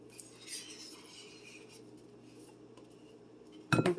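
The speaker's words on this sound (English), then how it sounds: "Just going to take my wooden spoon and scoop it out" A wooden spoon scoops thick frosting out of a tub while baking a Dollar Tree dessert, giving faint soft scraping through most of the moment and then a brief, louder clatter of utensil contact near the end.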